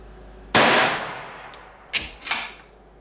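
A 6PPC benchrest rifle fires a single loud, sharp shot at a target, with a decaying tail and a few fainter bangs from the range that follow.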